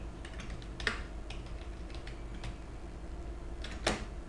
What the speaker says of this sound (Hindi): ये सारा मैंने टाइप कर दिया,